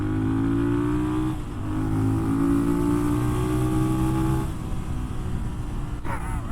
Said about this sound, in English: The way that the motor revs out is a lot more satisfying